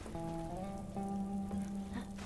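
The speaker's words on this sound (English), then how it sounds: "Okay, it is raining down here." Rain falls in The Last of Us as a steady, close patter, with sustained tonal hum layered over it throughout the short stretch.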